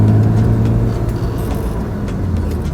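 A BMW M3 E36 under restoration being driven, its engine a steady low drone with road rumble, moderately loud, with no voices heard.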